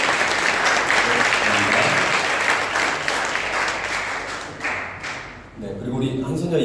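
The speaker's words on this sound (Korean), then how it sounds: "큰 박수 부탁드리겠습니다" A church congregation gives a loud, sustained round of applause, dense clapping that fills the room and fades slightly near the end, with some voices mixed in.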